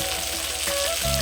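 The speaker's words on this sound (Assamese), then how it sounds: "এতিয়া বিলাহীখিনি ভাজি লৈছোঁ।" Tomatoes fry in a pan with salt, giving a loud, continuous close sizzle with a faint tonal hum running underneath, uninterrupted and without speech.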